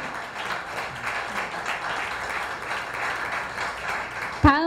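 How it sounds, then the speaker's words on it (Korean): An audience at an anniversary ceremony of the Korea–Kyrgyzstan exchange and cooperation committee applauds steadily in a dense, even wash of clapping, ending with a sudden sharp voice. "네, 뜨거운 박수로 축하해 주십시오."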